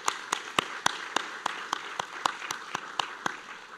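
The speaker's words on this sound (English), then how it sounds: "our faculty here indeed deserve a round of applause" A sparse, evenly spaced series of single claps rings out alone at an academic award ceremony, about three per second, crisp and moderately close.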